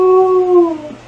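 A dog howls in one sustained, wavering cry lasting about a second, close and fairly loud, with the pitch sliding down toward the end and no talking over it.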